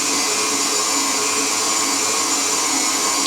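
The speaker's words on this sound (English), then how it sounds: "give this a whisk for a few seconds" An electric whisk beats Swiss meringue buttercream, a loud steady motor whine that holds evenly throughout, close and with no talk.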